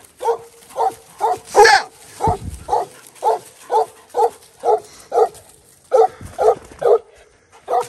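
A coonhound pup barks repeatedly during a Southern Ohio raccoon hunt, Black and Tan or Redbone breed, sounding a steady series of about fifteen loud, close yelping barks at a regular rhythm, with a brief louder burst early on.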